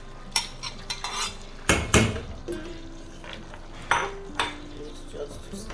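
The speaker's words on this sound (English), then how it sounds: "don't be scared to stir that soup" A spoon scrapes and clinks against a pot while ogbono soup is stirred, with sharp metallic knocks in irregular bursts, close and fairly loud, between quieter scraping.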